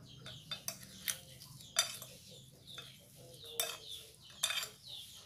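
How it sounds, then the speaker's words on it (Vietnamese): Spoon stirring marinade into young jackfruit for a Vietnamese vegan braise, giving quick clinks and taps against a bowl in an irregular rhythm, close and fairly quiet, with no talking. "Rồi bây giờ mình sẽ trộn lên."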